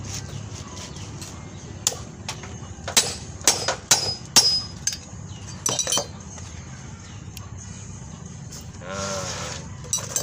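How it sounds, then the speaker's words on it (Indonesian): Sharp metallic clinks and taps ring out as a flat screwdriver is struck against a motorcycle clutch spring, irregular hits clustered in bursts, close and bright, with a brief bleat-like sound near the end. "sudah dipukul semua dengan cara menggunakan ini tadi ya, obeng gepeng ya, obeng pae"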